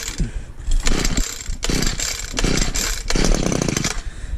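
A gas-powered lawn edger is pull-started outdoors, its small engine sputtering in several loud, close bursts separated by brief pauses as it tries to catch.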